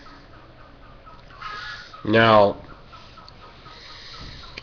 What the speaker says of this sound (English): you hear that sound? That's the chicken laying an egg.